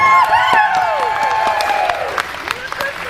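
An audience breaks into applause and cheering at a 40th birthday celebration, a short burst of clapping with whoops and shouted voices that thins out after a couple of seconds.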